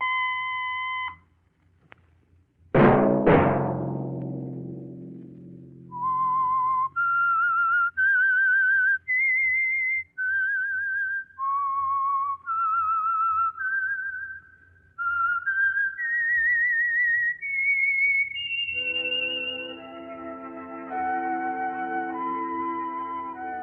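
A lone, clear whistled theme tune from The Whistler, a Signal Oil radio program, rises in separate sustained notes after an opening tone and a bright struck chime, ending on a held note over soft backing.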